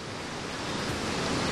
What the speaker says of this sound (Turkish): Şelalenin sesini net bir şekilde burada duyuyoruz.